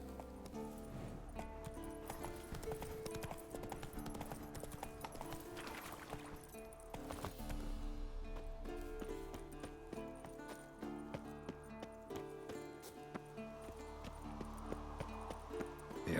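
Roach, the horse in The Witcher 3: Wild Hunt, gallops with a steady rhythmic clip-clop of hooves under a musical score, and a whinny breaks in partway through.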